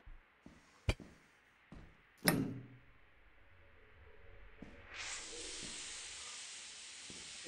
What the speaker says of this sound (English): There's a steam leak.